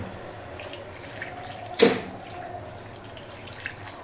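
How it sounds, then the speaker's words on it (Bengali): Water is poured into a simmering vegetable curry made with dry fish, heard as one brief splashing gush over a faint background hiss. "এখন এটাতে একটু জল দেবো"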